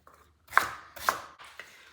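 A knife roughly chops ginger on a cutting board in three crisp, close, evenly spaced strikes, with brief quiet between them.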